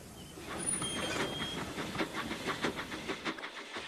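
A breakdown train rumbles along with rhythmic clicking of wheels over the rails, steady and fairly close, with a faint hiss and no voices.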